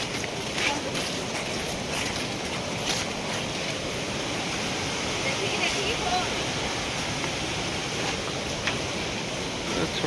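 A small branch river flows over black rocks near an iron bridge, giving a steady, dense rushing and splashing wash that stays loud and even throughout with no pause.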